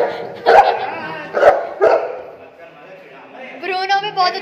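A dog barks close and loud in three sharp woofs, then gives a higher whining yelp, mixed with a person talking nearby.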